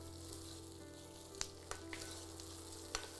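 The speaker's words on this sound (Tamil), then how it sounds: "இந்த வெங்காயம், பூண்டு, முந்திரி இது எல்லாமே நல்லா வதங்கிட்டு இருக்கட்டும்." Onion, garlic and cashews sauté in oil for a paneer gravy, giving a soft, steady sizzle with a few sharp pops and spatters standing out, heard alone.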